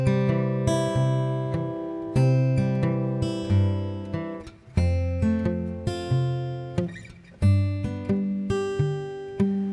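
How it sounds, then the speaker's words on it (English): Fingerstyle acoustic guitar plays chord arpeggios over a steady alternating thumb bass, in clean, ringing plucked notes that decay between regular chord changes, close and alone without talk. "Step 4 is where we get the fingers to spell out the chords in arpeggios"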